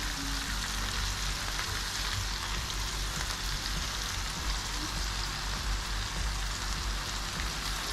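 Chopped spring onion going into Kerala-style chilli chicken frying in a pan, a dense steady sizzle that stays loud and unbroken throughout, close up with no talking.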